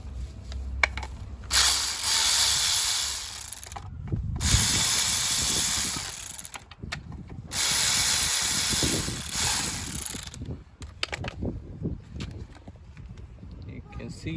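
A ratchet wrench loosens three 8mm nuts on a BMW F20/F30 N13 engine alternator, giving bursts of rapid close clicking that alternate with pauses, alongside handling clatter.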